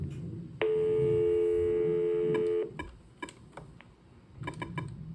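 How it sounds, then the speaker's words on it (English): Dialing tones on a 6 x 16 business phone system: a sustained steady electronic tone runs for about two seconds, followed by a series of short, separate beeps as keys are pressed, fairly close and clear. "Oh shoot, I already dialed the wrong thing."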